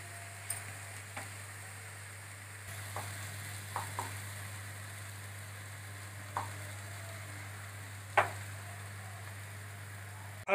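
Garlic and ginger paste frying in a pan for carrot and cauliflower pickle, a steady low sizzle with a few sharp scrapes and taps of stirring scattered throughout.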